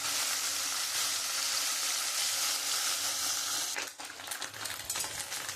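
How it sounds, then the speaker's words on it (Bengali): Fish sizzles steadily in hot oil in a wok, a dense, even hiss that briefly dips and then resumes with a few light clinks and stirs. "এবার আমি মাছগুলো দিয়ে দেবো। আমি সব মাছ এরকমভাবে আমি ভেজে তুলে নেব।"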